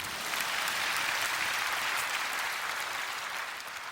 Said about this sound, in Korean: 왜 박수 안 치세요?